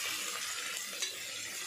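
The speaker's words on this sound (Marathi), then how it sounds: "कांदे घालते मी, चांगलं हलवून घेऊया।" Chopped onions sizzle and fry in a pan while being stirred, a steady close hiss with a faint scrape of the utensil, no voices.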